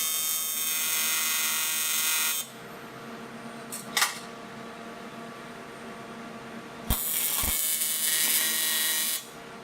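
Steel is welded for a custom airbox on an R33 Skyline. Two loud, steady bursts of crackling hiss are separated by a quieter stretch with a few sharp pops, and no one speaks.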